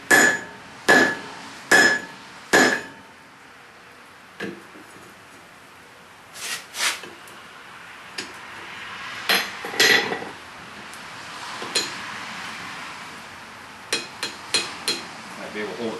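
A cross peen hammer rings on hot metal held over an anvil horn during hand forging. Four sharp, evenly spaced blows open the sequence, followed by scattered lighter strikes, with some talking in between.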